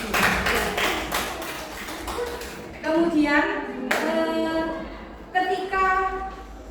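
Classroom students clap for a classmate, with a dense burst of many hands that tapers off, then a teacher's voice speaks and briefly overlaps a few scattered claps.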